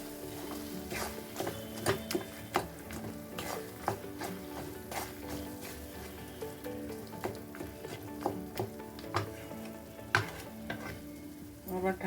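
Olive pickle (sweet-sour jolpai achar) being stirred and mixed in a pan over low gas, with a steady soft sizzle under repeated scraping and clinking of a spoon against the pan, close and fairly quiet, no talking.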